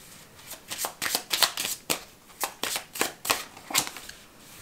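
Tarot cards being shuffled by hand for a reading, a steady run of close, crisp riffling bursts repeating roughly every half second with no talk over them.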